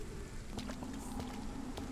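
Rain falls steadily in the video game Vampyr, a soft continuous patter and hiss over wet ground and puddles, with no voices.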